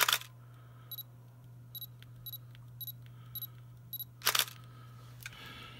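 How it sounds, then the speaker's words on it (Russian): A camera with a manually turned focus ring gives a run of short paired electronic beeps as focus is confirmed, followed by one loud mechanical shutter click near the end, set against a steady low hum with no talk. "срабатывает звуковой сигнал, световой сигнал, и кнопка затвора срабатывает"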